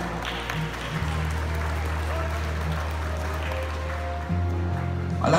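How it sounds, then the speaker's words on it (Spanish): Audience applause rises at a secondary school graduation ceremony as a student is honoured for second place, steady moderate clapping over a low hum of a sound system, fairly distant and unbroken for several seconds. "¡Un fuerte aplauso!"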